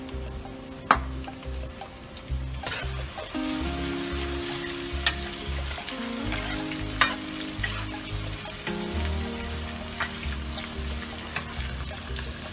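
Onion fries with ginger in a pan for a Punjabi curry, a steady bubbling sizzle with occasional sharp spatter pops and stirring, set against a low droning hum.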